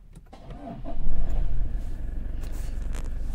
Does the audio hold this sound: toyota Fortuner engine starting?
yes